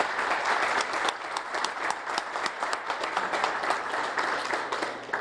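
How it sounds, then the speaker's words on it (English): An audience at a Southern University athletics press conference announcing a new head football coach gives a steady round of applause, many hands clapping at moderate volume throughout. "ask if you give him a round of applause"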